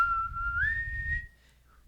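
A person imitates an alarm whistle with one sustained, clear whistled note that bends upward partway through, then cuts off, close and alone.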